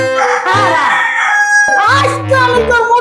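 A red rooster crows in a loud, drawn-out call of rising and falling tones, heard twice and close by with no talk over it.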